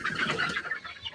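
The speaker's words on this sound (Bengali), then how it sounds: "এই প্রথম নিজে হাতে মুরগি ধরলাম।" A native country hen clucks and squawks in short agitated bursts while held in someone's hands, close and fairly quiet, with no talking.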